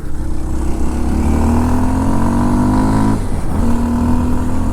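Kawasaki KLX 230 motorcycle ridden under acceleration, its single engine note climbing in pitch, dropping briefly at a gear change, then rising again, loud and close with a steady hum of wind.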